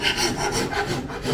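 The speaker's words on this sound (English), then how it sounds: "let's take that rasp and just knock down this top part" A rasp files down the wooden handle of an axe in steady, close back-and-forth rubbing strokes, rough and scraping, with no talking.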